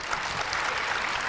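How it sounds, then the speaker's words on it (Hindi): Audience applause at an Islamic quiz session, a steady, even wash of many hands clapping together, held at the same level and without any voices. "हर जवाब पे तालियां होंगी।"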